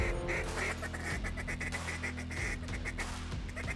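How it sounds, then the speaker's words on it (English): Zink NBG Nothing But Green polycarbonate duck call blown in quick rhythmic quacking bursts, loud and close, with no voices. "The NBG Nothing But Green polycarbonate by Zink Calls is a very inexpensive call for what you get."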